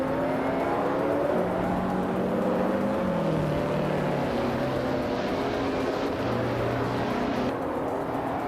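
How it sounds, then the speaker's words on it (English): Classic 1958 Maserati 250F race car engines in a racing video game, a steady loud drone of several cars with pitch rising and falling as engines rev and shift, continuous with no talk. "Bees McGee is driving a 1958 Maserati 250F, a classic that's holding strong in 2nd place"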